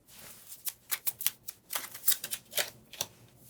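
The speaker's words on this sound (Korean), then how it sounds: "카드를 2장 뽑아볼게요." Tarot cards are drawn from a deck, two cards pulled with a quiet run of crisp rustling, flicking and slapping sounds, close up and soft, with no voices.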